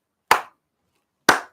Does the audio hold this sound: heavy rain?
no